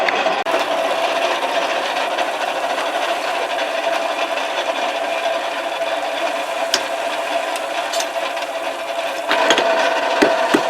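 Hand-cranked forge blower turned steadily while a guard for a spoon and cable Damascus knife is forged, giving a continuous whirring, rattling drone with faint clicks, fairly close and loud throughout, with no talk.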